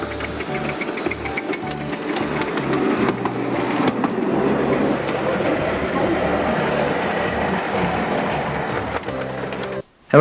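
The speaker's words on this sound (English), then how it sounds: "The lakeside miniature railway that runs from Pleasureland to the pier." A lakeside miniature railway train runs toward Southport pier with a steady rumbling and rattling clickety-clack of small wheels on track, continuous and fairly close, ending abruptly.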